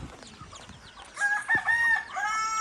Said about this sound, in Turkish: Şu tavuk kardeşler de burada.